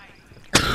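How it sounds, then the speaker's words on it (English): A single sharp, loud cough bursts out close by after a short quiet moment. "Sorry, I'm coughing."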